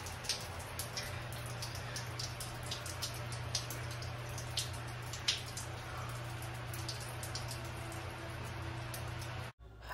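Water leaking from a clogged main line drips in a basement, with irregular faint drops and splashes over a constant low hum of background noise.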